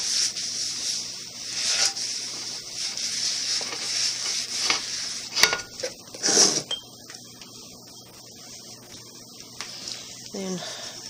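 A towel rubs shortening onto a stovetop skillet in steady, dry scrubbing and swishing strokes, fairly close, with a few louder scrapes partway through.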